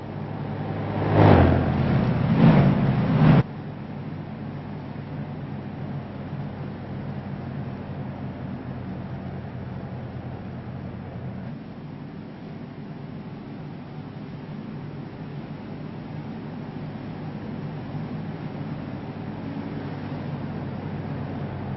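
Race cars with 850 horsepower roar around Michigan Speedway in a sim racing game, a loud engine burst at first, then a steady droning whine that continues throughout.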